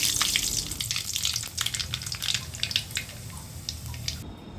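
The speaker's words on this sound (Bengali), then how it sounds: "এখানে আমি 1 টেবিল চামচ কালো জিরে ফোড়ন দিয়ে দিলাম।" Hot oil in a wok crackling and sizzling steadily as a tablespoon of nigella seeds (kalonji) tempers, for a Bangladeshi hilsa recipe; dense, close frying hiss with scattered pops, no talk.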